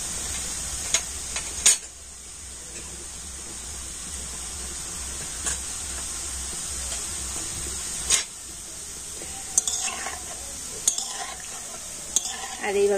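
Boondi for motichoor laddu fries in hot oil with a soft continuous sizzle while a ladle stirs them, giving occasional sharp clinks and scrapes against the pan, close and fairly quiet.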